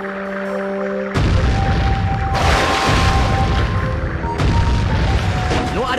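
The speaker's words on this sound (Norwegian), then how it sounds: "Da treffer skuddet skikkelig." In Sly 3: Honor Among Thieves, cannon fire explodes against boats, with three heavy, crackling booms spaced a second or two apart over a rumbling, noisy game backdrop.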